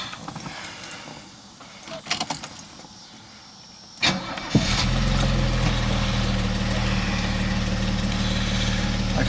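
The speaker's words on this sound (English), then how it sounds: "Go ahead and fire it up for you." A 1978 Mercedes-Benz 280SE with the 2.8 DOHC M110 inline-six: a few clicks and jingling keys, a short cranking burst, then the engine catches and settles into a loud, steady idle.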